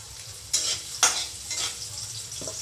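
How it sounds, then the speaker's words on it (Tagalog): Garlic and onion sauté in a hot pan with a steady sizzle, broken by two sharp bursts of stirring in the first second and softer scraping after, with no one talking. "Lagay ko na yung bawang, sibuyas. Kapain ko na."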